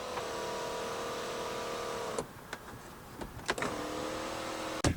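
An electric sunroof motor on a flooded BMW 335xi whirs steadily for about two seconds, stops with a few clicks and knocks, then whirs again, quiet and close inside the car.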